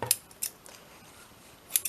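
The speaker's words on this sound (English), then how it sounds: "Giant scissors." Giant scissors snip scrap fabric and thread during slow hand stitching, with three crisp metallic cuts, two close together near the start and one more after a quiet pause.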